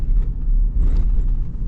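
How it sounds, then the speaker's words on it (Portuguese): A Nissan Frontier PRO-4X 2.3 biturbo diesel pickup rolls over bumps, heard from inside the cabin as a deep road rumble with brief knocks and rattles from interior trim and loose objects. "Tem barulhos de acabamento, mas muito dos barulhos também são aqui de objetos que estão dentro do carro"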